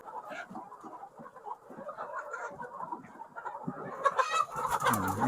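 Hens clucking steadily in a village poultry shed holding around three thousand birds, a dense mid-level chorus of overlapping calls that grows busier and louder toward the end, with no talk over it.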